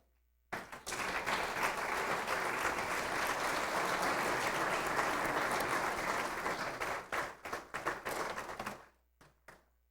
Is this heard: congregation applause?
yes